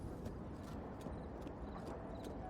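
Horse hooves clip-clop in Zelda Breath of the Wild, a faint run of soft, evenly spaced thuds over a steady low background hum.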